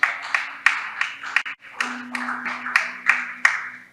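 A church congregation applauding after a call to acclaim God's word, with bursts of hand clapping in a loose, fairly regular rhythm, fading and swelling over a few seconds.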